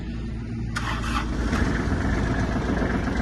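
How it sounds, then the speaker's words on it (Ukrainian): A Kubota GL-25 Japanese mini tractor's engine cranks and catches, a sudden onset under a second in, then settles into a steady, close, low idle rumble. "Давайте ще присядемо і заведемо тракторець."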